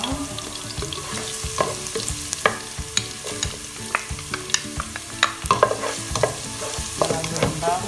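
Garlic sautéing in a pan for a Kapampangan fermented shrimp dish, a steady sizzle broken by frequent scraping and clacking as a utensil stirs it, close and fairly quiet with no voices.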